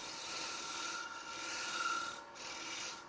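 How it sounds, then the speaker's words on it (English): Chisel chatter while cutting grooves in a wooden Christmas ornament on a lathe: continuous scraping rasp with a faint high vibrating squeal, steady and close, no talking. "That sound you hear, that little scream, is called chatter, because it's being suspended out here where it vibrates a little bit."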